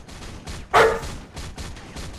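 A dog gives a single loud, sharp bark close by, rising suddenly over a low household background with faint murmuring before and after.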